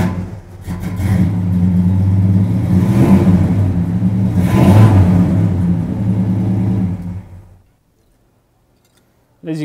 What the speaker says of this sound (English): as you start it, go turn the key. You do have to press the gas in a little bit.